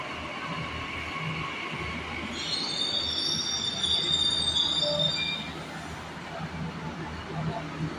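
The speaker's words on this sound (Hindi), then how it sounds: "मेट्रो आ गई हमारी" A Delhi Metro train pulls into the Qutub Minar station with a steady rumble and a high, sustained wheel squeal that rises midway and then fades, with faint voices underneath.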